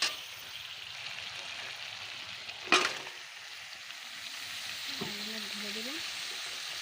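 Steady oil sizzle in a pan where fish has been frying, with a sharp clatter as bottle gourd goes in, followed by continued frying and a brief voice.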